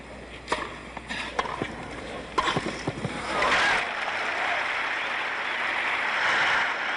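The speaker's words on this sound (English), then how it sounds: "They applaud when the same linesman calls that ball out" Tennis crowd at the 1974 US Open between Connors and Rosewall, where scattered claps give way after a few seconds to a sustained, moderately loud wash of applause from the stands.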